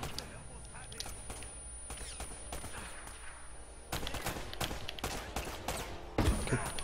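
Gunfight gunfire in Uncharted: Drake's Fortune, with repeated shots and bursts throughout, growing louder near the end, mixed with background sounds and a voice speaking.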